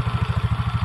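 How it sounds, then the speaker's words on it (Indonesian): A fuel-injected motorcycle's exhaust idles up close with a steady, rhythmic low putt-putt pulse, its idle restored to normal after repair. "ini suara knalpotnya"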